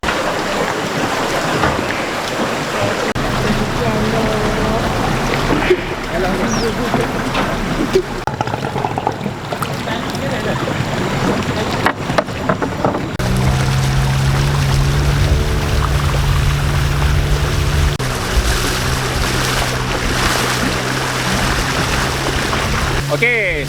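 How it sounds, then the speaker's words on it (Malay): A boat travels along the Said river in Kuala Sat National Park, Ulu Tembeling, Pahang, its steady motor hum and water rush running throughout, with the engine tone rising and strengthening midway, and voices talking over it. "sekarang kita menaiki bot uh, ah, menuju ke pos Betung ya dalam sungai Said"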